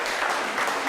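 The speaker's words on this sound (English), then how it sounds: "A little applause" Brief burst of applause from a governor candidate forum audience in Waimea on the Big Island, a steady broadband patter of many hands filling the moment without talk.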